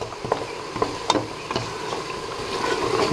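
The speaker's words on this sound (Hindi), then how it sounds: "इसको साथ साथ भूनते जाएं इस तरीके से।" Salted beef trotters being stirred and fried in a pot, with a spoon knocking and scraping against the metal every half second or so over a soft, continuous sizzle.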